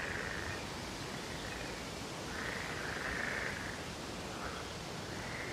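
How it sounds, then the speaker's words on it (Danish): A chorus of frogs croaking at a small lake with water lilies in a forest in Mid-Zealand, Denmark. The calls come as steady, faint, overlapping rasps that swell and fade in waves, with no voices. "og så lyden af frøer"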